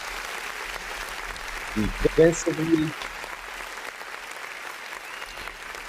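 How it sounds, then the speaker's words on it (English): A short burst of applause from a podcast studio audience rises briefly and fades within about a second, under and between talk from the hosts. "So round of applause."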